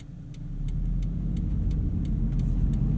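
A Subaru BRZ on skinny tires pushes through deep snow in a driveway, its engine droning low and steady with a rising rumble as it works forward.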